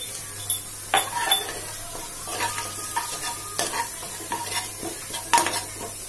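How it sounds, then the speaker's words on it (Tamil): Fennel seeds splutter and crackle in hot oil for mint biryani, a steady close sizzle broken by sharp pops and the clink of a spoon scraping the pan. "சோம்பு நல்லா பொரிய ஆரம்பிச்சிருச்சு"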